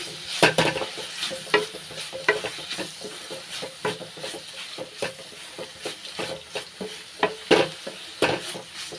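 A spoon repeatedly stirs and scrapes through sautéed onion, garlic and grated coconut in a frying pan for a bitter gourd kootu, giving rhythmic clinks and scrapes over a soft, continuous sizzle.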